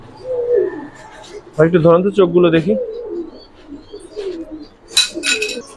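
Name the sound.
silver pigeons cooing at a pigeon farm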